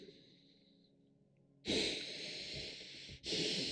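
Heavy, close breathing right against a microphone: a quiet stretch, then a long, loud, rushing exhale that cuts off briefly and resumes just as strongly.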